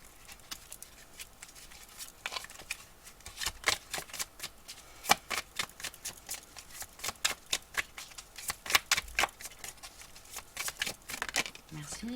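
Circle of Life tarot cards shuffled by hand, a quick irregular string of soft papery riffles and snaps, close and fairly quiet, with brief pauses between bursts.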